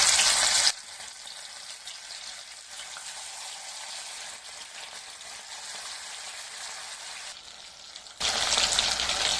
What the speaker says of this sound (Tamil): இதில் ஒரு ஒரு ப்ரான்ஸாக சேர்த்துட்டு ஃப்ரை பண்ணிக்கலாம்